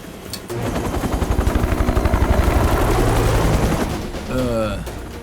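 Helicopter rotors thump in a fast, steady rhythm, swelling louder then easing off, and a voice speaks briefly near the end.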